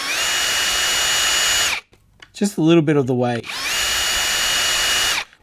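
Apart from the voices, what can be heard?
power drill drilling into a plastic model canopy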